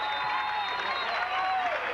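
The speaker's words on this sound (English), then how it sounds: "Bulldog fans come to their feet, give Corey Stott a round of applause" Bulldog fans at a 1994 varsity football game rise and applaud a blocked kick, a dense, steady wash of clapping and crowd noise heard from a distance.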